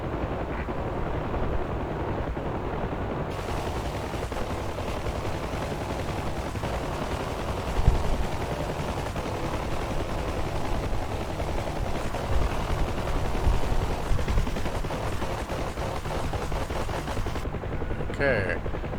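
Gunfire around a UH-1 Huey helicopter in the DCS flight simulator, bursts of shooting under the steady loud drone of the rotor and engine, with a voice talking over it.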